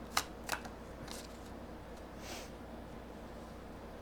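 Tarot cards are shuffled and drawn during a reading: a few sharp, close card snaps come in quick succession at the start, followed by a faint rustle and then near silence.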